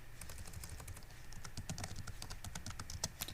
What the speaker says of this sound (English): So you just type in Xbox